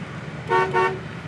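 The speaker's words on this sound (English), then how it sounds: "Horn works" Horn of a 1975 Buick Riviera sounding in two short honks, loud and close, over a low idle rumble with no one talking.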